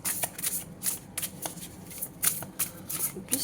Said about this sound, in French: j'arrive pas à sortir la troisième carte